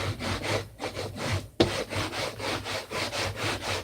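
A bone folder is rubbed firmly back and forth over glued paper for a mini album, giving close, rhythmic scraping strokes with one sharp tap partway through.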